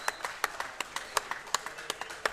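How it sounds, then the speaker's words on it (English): Clapping at a live pub event in a hotel, sharp individual claps in an uneven rhythm roughly every quarter second, moderately close, without a loud sustained cheer. "there's a big cheer there"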